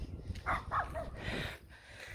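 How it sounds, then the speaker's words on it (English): Small dog yips a few quick, faint barks in a quiet room, two short sharp bursts followed by a softer whiny bark, with no talk over it. "And a little dog barking at me."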